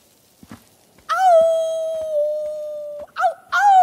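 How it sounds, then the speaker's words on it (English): In the video game Life Is Strange 2, a wolf lets out a long, clear howl that holds steady for about two seconds and dips at the end, followed by shorter rising howls, with faint clicks and footsteps around it. "I hear a wolf."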